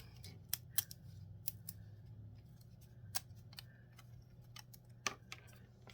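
Scissors snip repeatedly at an irregular pace, with crisp, close, moderately quiet cuts spread across the clip over a low steady background hum.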